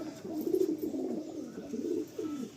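Pigeons coo softly and close by in a quiet space, giving a few low, rolling burbling calls that blend into one another over a couple of seconds.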